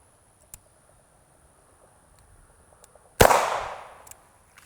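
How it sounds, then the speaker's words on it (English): A single sharp crack from a Ruger SP101 9mm steel-frame revolver at a shooting range, loud and close, with a short decaying tail after long near-silence and faint ticks. "I'm gonna put the grips on this thing and we're gonna take it shooting."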